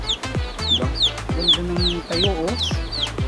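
Chickens cluck in a rapid, repeated series close by, with bright high calls recurring through the whole stretch while people talk over them.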